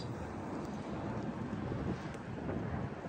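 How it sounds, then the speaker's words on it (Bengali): Strong wind off the sea roars steadily across the microphone, a loud, continuous buffeting rush that fills the whole stretch without a break. "প্রচন্ড বাতাস।"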